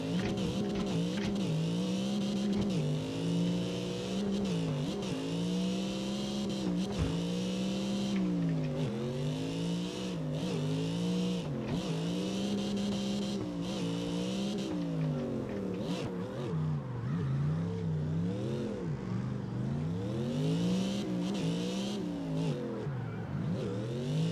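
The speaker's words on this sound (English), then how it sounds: "See, on throttle, he just powers out" Drift cars race in CarX Drift Racing Online, a tuned VZ 210 among them, their engines revving and wavering continuously with rising and falling pitch sweeps as they slide and power out of corners, loud and constant throughout without talk.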